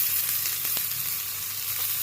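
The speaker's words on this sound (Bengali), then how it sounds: "পনিরগুলো দিয়ে এই বাটারের মধ্যে হালকা করে ফ্রাই করে নেবে।" Cubes of paneer frying lightly in butter in a pan give off a steady, close, even sizzle with a brief scrape of stirring partway through.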